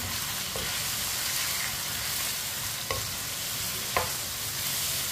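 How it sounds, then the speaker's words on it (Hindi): Finely chopped onion and garlic cloves frying in a pan over medium heat, a steady close sizzle with a few light scrapes of stirring, no talk. "लहसुन और प्याज को भी 2 मिनट के लिए फ्राई कर लेंगे साथ ही।"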